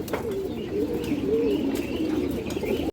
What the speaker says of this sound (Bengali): এই যে দেখেন আপনার কবুতরটা খুব সুন্দর একটা মাদি কবুতর দর্শক।